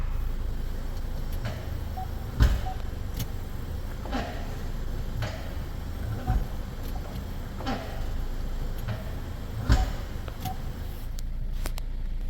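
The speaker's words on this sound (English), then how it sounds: "That's just me going reverse drive, reverse drive." Heard from outside, a Ford Escape is shifted back and forth between reverse and drive, each change giving a faint clunk or tick over a steady idling hum, about five or six knocks spread across the stretch.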